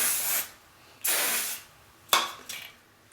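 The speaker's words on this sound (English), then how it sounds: "I would put a decent amount of hairspray on this section just so it stays back" Hairspray misted onto a section of styled hair in short bursts: three or four close, sharp aerosol hisses separated by brief pauses, with no talking.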